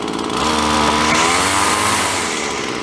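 An old Sears engine runs steadily at high revs, a loud, close, continuous buzzing drone with a steady harmonic whine that holds for about three seconds and eases slightly near the end, with no voices.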